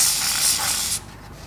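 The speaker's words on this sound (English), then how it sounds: "So I'm going to use some of this Liquid Moly spray, which has got a freezing action on it." Liquid Moly freezing spray hisses from an aerosol can onto a seized plug in one close, steady burst lasting about a second, then cuts off to a faint background.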